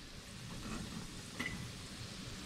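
Steady crackling sizzle of oven-roasted pork belly frying into chicharrones, a dense hiss with faint pops, close and continuous with no voices.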